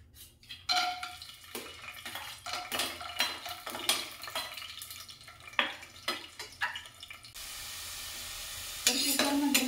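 Peanuts drop into hot oil in a pressure cooker and sizzle, with metal stirring scrapes and clinks against the pot in irregular bursts, then a steady frying hiss near the end.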